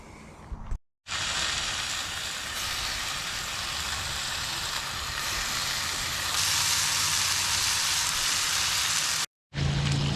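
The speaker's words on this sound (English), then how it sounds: "so got a lot of bacon left to cook up here" Bacon cooking at a campfire, with a dense, continuous hissing sizzle that holds steady for several seconds and swells slightly toward the end, close and unbroken by speech, starting and ending abruptly.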